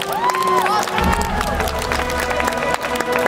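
Crowd applause and cheering for men's physique competitors onstage at a bodybuilding show, with steady clapping and shouts running through under a host's amplified voice.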